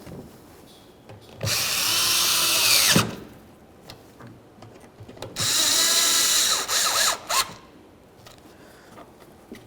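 A power driver snugging two Phillips head screws on a 1998-2011 Ford Ranger high-mount third brake light, two sustained whirring bursts of about one and a half seconds each, close and loud, separated by quiet handling noises.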